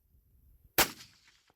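A single sharp rifle shot cracks out during a prairie dog hunt after a quiet stretch, loud and close, with a brief ringing tail that fades over about half a second.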